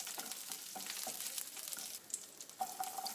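Mustard seeds, chana dal, dried red chillies and curry leaves sputter in hot oil for a Tamil brinjal fry, a steady crackling sizzle with a few sharp pops near the end, close and alone.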